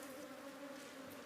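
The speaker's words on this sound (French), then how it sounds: "il n'y a pas une abeille qui le pique, c'est quand même extraordinaire, ça" A steady, close swarm of bees buzzing around natural honeycomb filled with warm honey, a continuous droning hum with no pauses.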